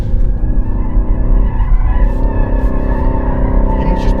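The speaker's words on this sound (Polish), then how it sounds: "pojawił się poślizg" A 2021 BMW M3 (G80) engine revs loudly with a rough pulsing note while tires squeal and skid through a turn.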